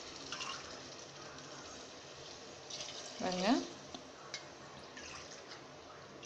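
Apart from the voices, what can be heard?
water poured onto rice and vegetables for biryani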